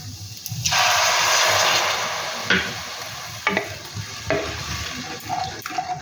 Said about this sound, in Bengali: আমি এরপর দিয়ে দেবো এক কাপ জল